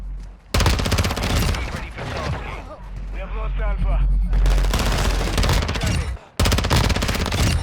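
VEL 46 submachine gun fire in a shooter video game, rapid loud automatic bursts close up, broken by short pauses and a brief mechanical reload clatter.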